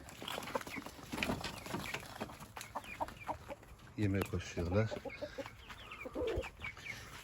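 Chickens and this year's chicks cluck and chatter close by in a busy garden coop, with someone talking over the birds throughout.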